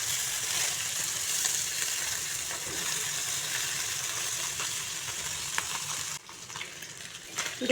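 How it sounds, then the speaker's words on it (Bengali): Small mola fish fry lightly in hot oil with a soft, continuous sizzle that drops away briefly near the end before resuming. "মাছগুলোকে হালকা ফ্রাই করব,"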